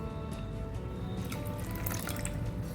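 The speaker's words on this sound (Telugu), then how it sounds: "ఇప్పుడు ఇందులోకి ఇంకొక 2 కప్పులు వాటర్ వేసుకోవాలి." Water poured into a flour batter for ulavakattu, a steady liquid pour and trickle running through the whole stretch at low level with no voices.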